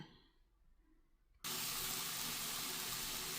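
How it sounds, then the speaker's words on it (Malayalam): Running water pours steadily from a tap as millet and oats are rinsed, starting abruptly after a quiet moment and continuing as a loud, even gush. "ഇനി ഇതൊന്ന് ഒന്ന് ചെറുതായിട്ട് കഴുകിയതിന് ശേഷം ഒന്ന് പത്ത് മിനിറ്റ് നേരം ഒന്ന് കുതിർത്ത് വെച്ചിട്ട് നമുക്ക് കാണാം"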